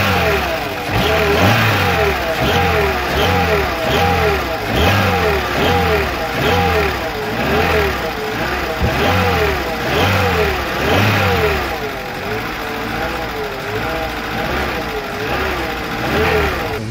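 A Škoda Felicia Laurin & Klement engine runs close by, revving up and down repeatedly in a steady rhythm, with faint voices underneath.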